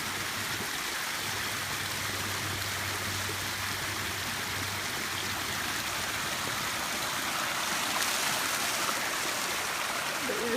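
A waterfall rushes in a steady, dense broadband roar that holds unchanged from start to finish, with no talk.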